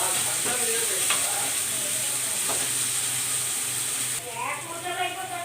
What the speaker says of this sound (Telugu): ఆనియన్స్ వేగుతాయి కదండి